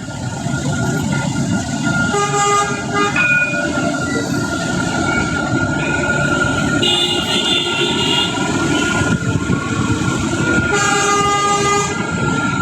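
A tram rolling along a city street in Rabat near Bab Chellah, a loud steady rumble of wheels and motor hum with a few bright tonal whines and bell-like toots, with no talk.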